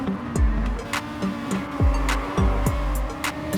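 Race car engine in Gran Turismo 7 revving hard and shifting, with repeated sharp drops in pitch between pulls as the car works through corners, loud and steady with no talk.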